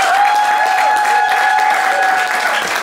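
Audience applause at a concert, a dense steady wash of clapping filling the whole stretch at high level, with a sustained tonal line running underneath.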